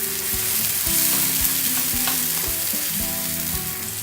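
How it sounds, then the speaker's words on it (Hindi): Chopped tomatoes frying in a pan for chicken handi, a steady loud sizzle with repeated scraping knocks of a spoon stirring through them, close and continuous with no talking. "फिर इसमें चॉप टमेटोज ऐड कर लें। टमेटोज को सॉफ्ट होने तक पकाएं।"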